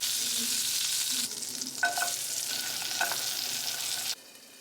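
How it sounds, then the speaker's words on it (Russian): Steady, close sizzling of scallops frying in butter in a hot pan, a bright continuous crackle with a few soft clinks of a utensil. "сейчас я положу в сковородку масло, обычное сливочное, и на нем буду жарить"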